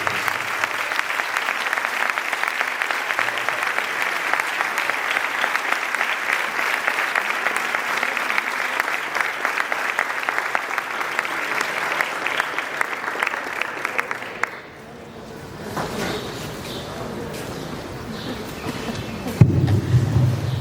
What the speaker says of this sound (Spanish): per això demane un fort aplaudiment